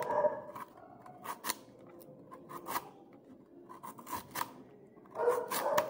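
Bamboo shoots are peeled by hand, giving a series of short, dry scraping and rasping strokes at an uneven pace, close and fairly quiet.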